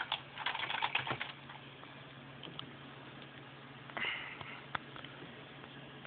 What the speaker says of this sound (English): And I'm pressing keys.